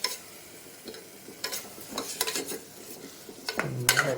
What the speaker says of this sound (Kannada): ಅಕ್ಕಿನ ಬಾಡಿಸ್ಕೋಬೇಕು ಈ ಥರ